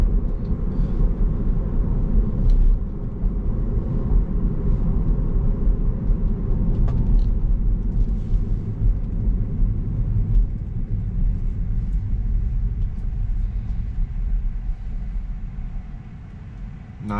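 A Tesla running Full Self-Driving 12.3 accelerates along a road, giving a steady low rumble of road and drivetrain noise that holds constant for the whole stretch, with no talking.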